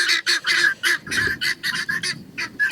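Guinea fowl give loud, close, harsh honking calls in a rapid, repeated series of short bursts, one after another with barely a pause.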